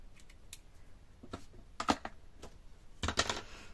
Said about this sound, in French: Donc je vais découper un morceau